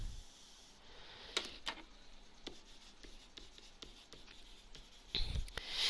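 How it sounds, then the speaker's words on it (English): An eraser rubs writing off a board in a quiet room, faint scrubbing strokes with a few sharper taps and scrapes spread across several seconds, no voice. "So I'm going to erase that right now."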